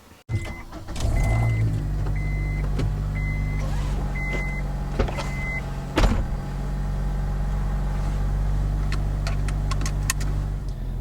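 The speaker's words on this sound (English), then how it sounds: "then we'll go for a little drive" An Acura RSX with a fresh clutch master cylinder replacement starts up and settles into a steady engine drone, with a few beeps, chimes and clicks from inside the cabin and a brief rise in engine noise, with no talking.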